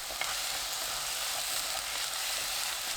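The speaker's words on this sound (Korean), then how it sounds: "감자 넣고 센 불로 볶습니다." Potatoes stir-frying over high heat, giving an even, soft hiss of sizzling oil with a faint stir scrape near the start; quiet and continuous, with no voice.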